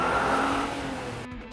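Car pulling away in a hurry during a tense abduction scene, a loud, close engine roar with a tonal whine that eases off and drops away abruptly near the end, with no speech over it.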